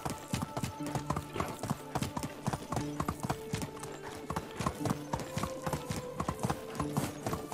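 Steady rhythmic clip-clop of a ridden horse's hooves in the medieval survival game Medieval Dynasty, moderately loud and close, with a brief whinny and no talking.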